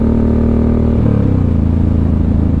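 A 2007 Suzuki M109R motorcycle engine idling with a low, steady rumble, then a light throttle blip lifts the pitch briefly before it settles back to a lumpy idle, close and alone.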